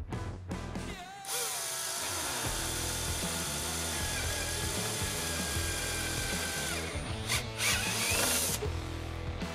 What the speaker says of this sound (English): drill a hole through the bottom of the driver's side shown here with the console latch facing up.